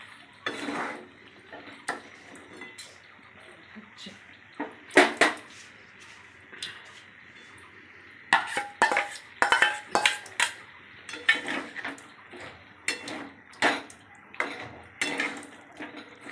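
A metal spatula scrapes and clinks against a pan while chicken and raw mango paste are stirred and fried, giving irregular taps and scrapes that quicken into busy, close clattering bursts with quiet gaps between.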